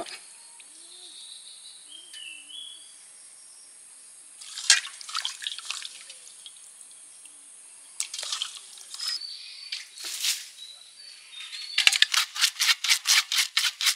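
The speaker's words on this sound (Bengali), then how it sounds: "মাছগুলো এবার ধুয়ে নিই" Silver fish being washed in a rural village kitchen produce scattered water splashes and drips in short bursts, ending in a quick rhythmic run of splashes over a quiet background with faint insect chirping.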